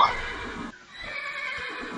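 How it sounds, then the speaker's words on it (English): A horse in the Minecraft video game gives a single loud, close whinny that trails off into softer rustling game sounds, with no talk. "just spawning right next to some horses"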